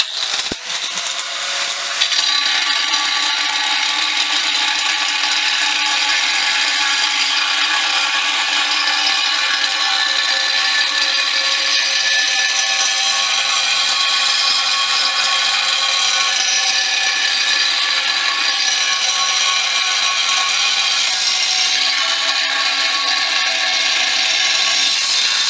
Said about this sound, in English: If you try to dig in all the way, whole hog into the material with these cutoff wheels, they don't like that very much.